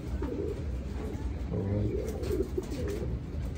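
Pigeons coo softly and repeatedly in a rainy outdoor loft, low throaty calls rising over steady background noise, with a person briefly speaking.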